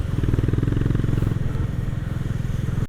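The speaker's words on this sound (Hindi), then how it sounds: "अब मैं चला रहा हूँ अपाचे 160" A TVS Apache 160 motorcycle is ridden along a wet road during a group ride, its engine thrumming with a steady, close, pulsing rhythm that eases slightly partway through.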